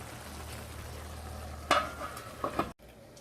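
Moussaka sauce stirred in a covered frying pan, a soft low simmering hiss followed by a few sharp scraping clatters of a utensil and a lid, then a sudden cutoff.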